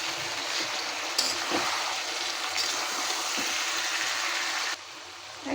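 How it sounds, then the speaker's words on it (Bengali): Mashed fried bean and potato poured into onion and garlic browned in hot oil, giving a bright hissing sizzle with short spattering bursts that drops off sharply near the end. "আমি এখন ভাজিটা ঢেলে দিব।"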